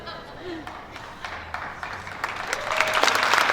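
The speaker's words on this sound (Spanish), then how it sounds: "El primer aplauso de la noche surgió cuando dije vodka" Audience applause and laughter at a philosophy talk in Recoleta, building from scattered claps into a fuller round, heard fairly close in a hall.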